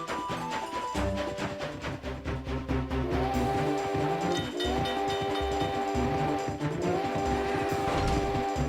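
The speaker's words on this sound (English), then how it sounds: "we gotta avoid these demon trains again" Demon trains rumble through a forest in the video game Zelda Spirit Tracks, a loud, continuous mechanical roar with sustained horn-like tones rising and shifting over about nine seconds, with no talking.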